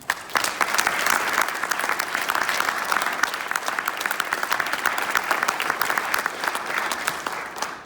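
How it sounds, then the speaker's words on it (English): Loud, dense applause from a large crowd at a military retirement ceremony for a senior master sergeant, many hands clapping steadily and evenly throughout, tapering slightly at the very end. "I would like to get a round of applause for the people that put on this retirement ceremony today"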